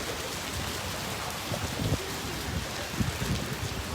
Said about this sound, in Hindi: ज़्यादा ही बारिश हो गई है।